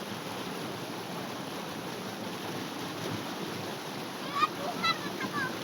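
Water from a deep tube well rushes steadily while a child bathing dunks his head, with a brief splash near the end and a voice speaking nearby.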